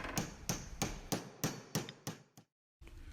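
A hammer strikes a punch about seven times at a steady pace to drive a roll pin out of a 2015–2017 Ford Mustang shifter lever. The sharp metallic taps are close and fade slightly, followed by a brief silence.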